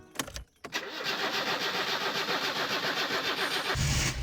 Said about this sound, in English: I filled up the fuel tank with my jerry can and started her up.